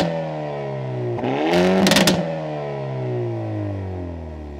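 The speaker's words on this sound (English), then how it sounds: "here's an exhaust clip so you can hear just how awesome this car still sounds" A 2022 Hyundai i30N manual hot hatch revs its engine, the exhaust note climbing in pitch then settling, with a brief loud crackling burst at the peak.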